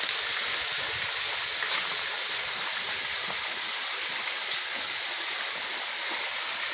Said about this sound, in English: Boy, you can hear the water going.